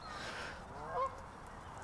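Geese give a short, moderately clear honk at a park fishing lake where pike and carp are being caught, a single call rising briefly above steady outdoor background noise.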